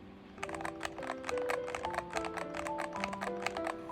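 Typing on a mechanical keyboard with a different set of switches and artisan keycaps gives a quick, irregular patter of close, crisp key clacks in a quiet room.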